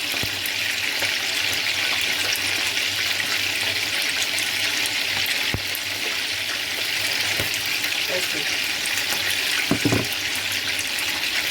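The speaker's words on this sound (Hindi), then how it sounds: "चिकन को अच्छे से फ्राई कर लेंगे।" Chicken for a jalfrezi fries in a pan with a steady hissing sizzle, broken by a few sharp clinks and spits.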